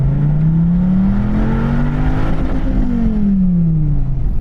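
A Dodge Viper on track tyres launches and accelerates hard, its engine note rising then falling as gears climb, loud and close throughout.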